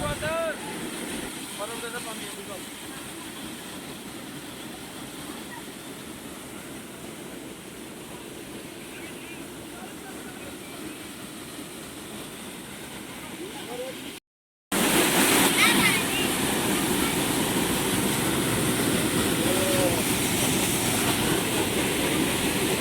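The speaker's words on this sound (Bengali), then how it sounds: "চলো তোমাদের ওয়াটারফলটা শোনায় কতটা হেভি আওয়াজে আসছিলো বাট আমি সাউন্ডটা লো করে দিলাম" Heavy, steady roar of an ice-melt waterfall fills the scene without a break, broad and loud, with one short dropout partway before the rushing water returns even stronger.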